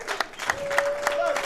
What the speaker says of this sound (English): as you can hear from the crowd, both people cheering for Morgan are happy